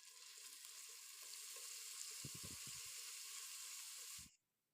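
Sliced shallots fry in hot oil over a low flame, a steady close sizzle and hiss with a few soft stirring knocks near the end before it cuts off.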